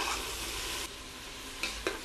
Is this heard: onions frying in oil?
yes